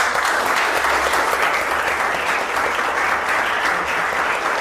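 Audience applause fills a live talk event in Berlin on salsa lead and follow dynamics, a steady, dense wash of clapping from a crowd that stays loud and even throughout.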